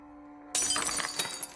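Glass dropped on a floor in a TV drama, a sudden sharp shatter after a quiet room-tone lead-in, followed by a scatter of tinkling fragments that fade over about a second.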